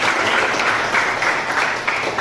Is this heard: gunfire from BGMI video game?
no